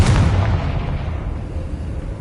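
Confringo blasting spell explosion in the Hogwarts Legacy video game: a loud, close boom with a heavy low rumble that decays steadily over two seconds, no talking.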